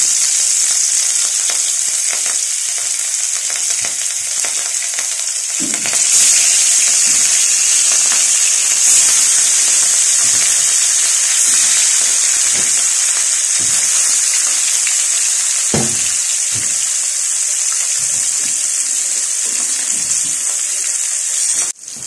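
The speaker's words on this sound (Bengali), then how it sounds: "তেলটা গরম হয়ে গেছে, এবার এক এক করে মাছগুলো আমি দিয়ে দেবো।" Fish pieces rubbed with salt and turmeric fry in hot oil, a loud, continuous crackling sizzle running throughout, broken only by occasional faint clinks of a utensil.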